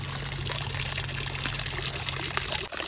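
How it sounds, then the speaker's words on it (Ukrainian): Water flows steadily beside a high-roofed building in Switzerland, a continuous near rushing trickle with a low hum underneath, ending in a brief dip. "також водичка тече"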